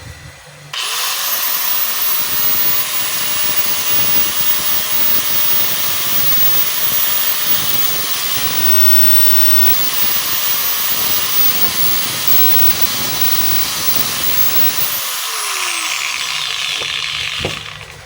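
DeWalt DWE8100S 4-inch angle grinder running after repair, spinning up quickly into a loud, steady high whine with a hissing edge for about fourteen seconds, then winding down as the motor coasts to a stop.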